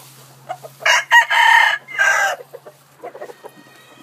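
A fighting cock, a black Jap Asil Peru gamefowl, crows loudly and nearby in a few strong bursts, followed by softer clucks and scattered small sounds under a faint steady hum.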